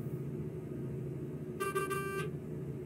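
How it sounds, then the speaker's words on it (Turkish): A horn honks on a Mercedes-Benz Tourismo coach in Euro Truck Simulator 2, a bright sustained blast of about 0.7 seconds with a short break, heard over a steady low engine rumble. "Kornayı sevmiyorum ya"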